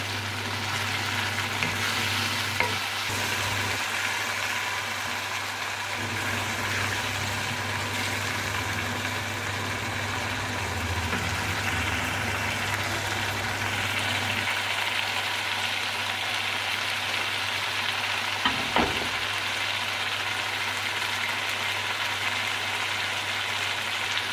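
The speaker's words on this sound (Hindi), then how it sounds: "इस तरह से मेथी को थोड़ा सा भून लेने से इसकी कड़वाहट कम हो जाती है" Fenugreek leaves stir-fry in a pan with a constant loud sizzle, a low hum beneath it and occasional sharp scrapes or clacks of stirring.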